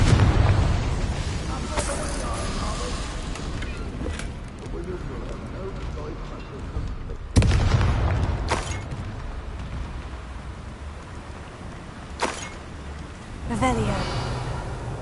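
Several Confringo curse explosions go off in the Hogwarts Legacy video game, sharp booming blasts spaced across a noisy game battle, the loudest landing midway, with voices heard in the clip.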